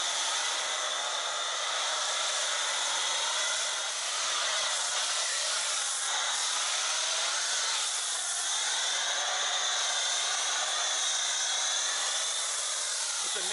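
A COMET Static 1700 pressure washer sprays thick snow foam in a steady, loud, continuous hiss that holds unbroken from start to finish, with no voices over it.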